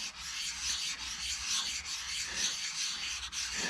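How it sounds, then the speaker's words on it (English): Steel workpiece lapped by hand on a lap plate, a soft rhythmic gritty rubbing in repeated back-and-forth strokes, close and alone. "this action of lapping work hardens surfaces"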